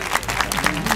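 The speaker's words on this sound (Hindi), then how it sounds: "शायरों के लिए तालियां बजाएं एक दफा" A dense wash of audience applause at a poetry recital (mushaira), steady and loud throughout, with crowd noise mixed in.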